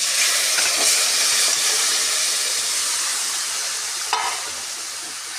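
Mutton frying in a pan with a pinch of salt, a loud, steady close sizzle with soft stirring scrapes, and one brief flare of spitting about two-thirds of the way through.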